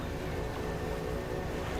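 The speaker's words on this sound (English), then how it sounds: "We'll take my boat and we'll go and do things." A boat moves across the water in the fishing video game Dredge, producing a dense, steady rushing wash of engine and water noise with no speech.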